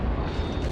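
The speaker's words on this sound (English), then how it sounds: "Someone just detonated." A short, dense explosion rumble from a ship detonating in the naval video game World of Warships, a loud sustained burst of low roaring noise lasting under a second.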